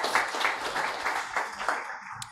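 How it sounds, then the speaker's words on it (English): An audience at a book launch and exhibition breaks into applause, a short run of moderate, evenly spaced clapping that fades out after about two seconds. "let's give him a round of applause"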